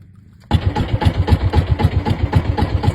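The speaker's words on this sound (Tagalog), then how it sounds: "Andar na naman natin yung makina natin." A fishing boat engine starts abruptly after a brief quiet, then runs close and loud with a fast, steady chugging pulse.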